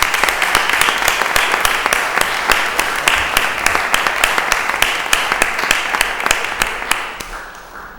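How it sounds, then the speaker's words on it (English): Applause at a city council meeting, with a few close hands clapping in a fast, sharp, even rhythm over a wider crowd's clapping that tapers off near the end. "So give a round of applause to this wonderful one"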